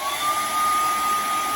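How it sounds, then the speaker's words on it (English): A hair dryer runs on its high setting, a steady loud blowing whoosh with a constant motor whine, close by and uninterrupted. "And we're going to use a hair dryer."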